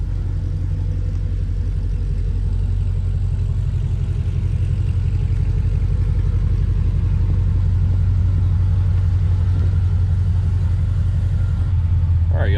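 A 1988 Pontiac Firebird engine idles steadily while warming up, heard nearby as a constant low rumble with an even pulse, running alone and unchanged the whole time.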